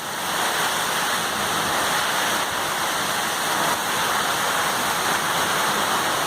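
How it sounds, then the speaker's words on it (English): Strong wind gust from Hurricane Matthew on Merritt Island, Florida, a loud, continuous roaring rush of wind and driving rain that holds steady throughout. "That one's a kind of strong wind gust."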